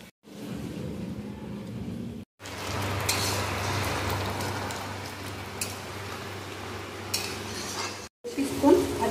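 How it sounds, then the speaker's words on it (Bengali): Mutton being stirred and fried in a pan, a steady close sizzle with occasional scrapes of a spatula, broken by two brief silent cuts, moderately loud and without talk. "কিছুক্ষণ ভাজা মাংসটা কষিয়ে নিয়েছি, কষানো সুন্দর হয়ে গেছে"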